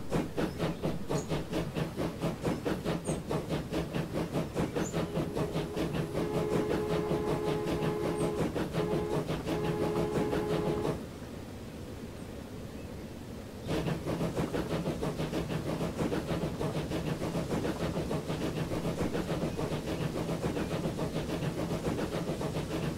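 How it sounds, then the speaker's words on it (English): Train running in the video game Transport Fever, a steady rhythmic chugging with hissing and rail clatter that continues throughout, briefly dropping to a quieter hiss near the middle before resuming. "Take this train to Boston."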